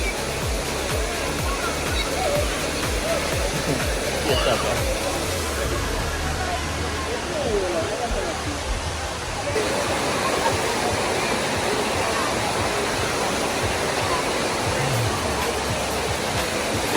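The powerful cascade of Dunn's River Falls in Jamaica roars as a steady, loud, close wash of rushing water, with a brief voice heard over it.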